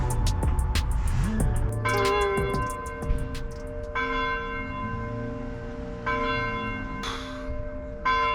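A church bell rings loudly with repeated overlapping strikes whose long metallic tones hang and blend, joined by a second bell partway through, with faint low rumble beneath and no speech.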